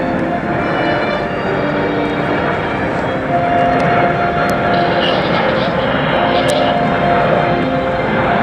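The Patrouille de France jet aircraft display team flying at an air show at Duxford, a loud continuous jet roar with a steady rushing drone throughout, with voices underneath.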